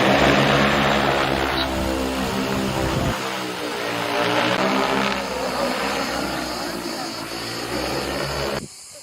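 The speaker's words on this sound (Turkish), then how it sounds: "Karıştırdıktan sonra drone'umu kaldırıyorum." An agricultural spray drone lifts off at a farming camp in Bodrum, Turkey, after its tank of pesticide and water is mixed: a loud, steady propeller whine and buzz with rising pitch, close by, running throughout before cutting off abruptly near the end.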